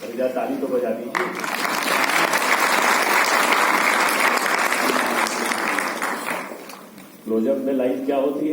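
An audience at a motivational talk breaks into sustained applause lasting about six seconds, loud and dense, ending as the speaker resumes talking.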